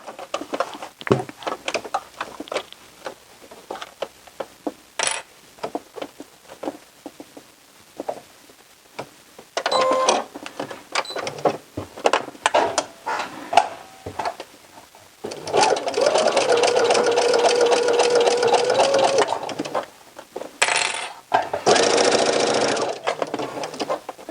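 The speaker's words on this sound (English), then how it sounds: "After your sleeve is clipped in place, we're going to go ahead and sew it in." Sewing machine stitching a sweater sleeve into place, bursts of fast mechanical rattling that start and stop, with a long steady run in the latter half and fabric handling sounds between runs.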